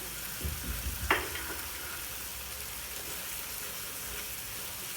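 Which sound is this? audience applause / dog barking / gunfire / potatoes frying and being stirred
potatoes frying and being stirred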